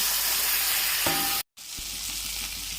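Mashed green peas frying in mustard oil with nigella seeds in a wok, a steady broad sizzle with a brief sharp break midway before the frying hiss resumes, with soft stirring scrapes.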